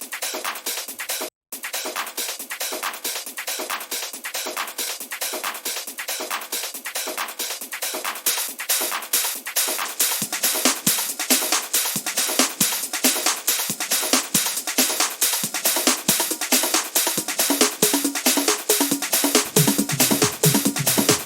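A hardgroove techno top loop playing in Ableton: a fast, loud, continuous train of crisp percussive hits, with a brief dropout near the start and thicker low-end pulses joining in the later part.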